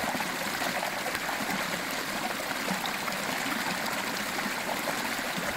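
A river stream flows steadily in an animated film, a continuous loud rushing and babbling wash of water with no pauses.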